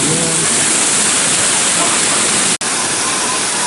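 Steady roaring rush of a waterfall at the Rattlesnake Rapids water ride in Lagoon amusement park, loud and continuous broadband spray with a brief dropout near the end.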